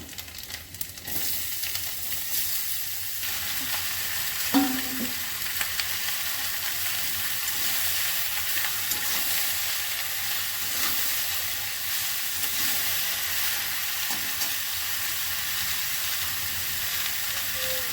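Bottle gourd frying in a pan, a steady soft sizzle and hiss running throughout with a brief stir or clink early on, fairly faint and without talk.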